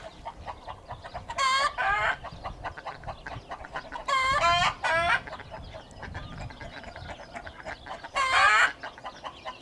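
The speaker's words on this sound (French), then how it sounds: "il y a quand même un bruit de la femelle canne" A female Indian Runner duck quacks loudly in three separate bursts of rapid, raspy calls, close up, with quieter background noise in between.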